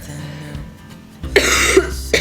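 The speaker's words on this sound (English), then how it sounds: "Guys, I can't stop coughing." A burst of harsh coughing up close, loud and broadband, after a quieter stretch of low background noise.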